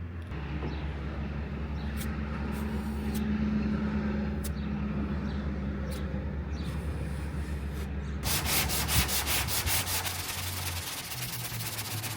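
Steady abrasive rubbing of sanding on the body of a Mazda RX-7, continuous and close, with a sharper rhythmic scraping texture near the end.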